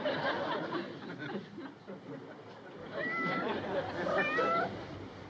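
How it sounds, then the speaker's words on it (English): A cat meows a few times in a cold, wet, rundown cabin with no electricity, its calls rising over steady background music and ambience in a TV sitcom scene. "you ain't exactly the kind of kitty cat I was hoping for"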